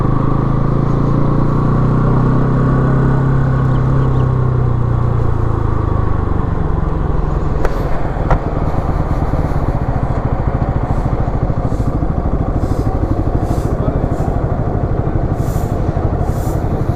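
A motorcycle engine drones loudly and continuously while riding on a highway in India near Varanasi. The pitch rises as it accelerates, and a steady wind roar runs underneath.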